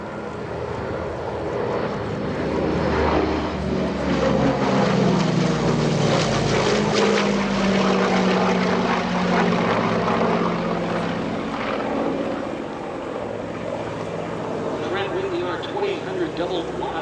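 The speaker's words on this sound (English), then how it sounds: "Listen to these gorgeous engines as they roar on by." The Flying Bulls' vintage piston-engined airliner roars past at an airshow, its deep propeller drone swelling as it approaches and slowly fading away, loud and continuous throughout.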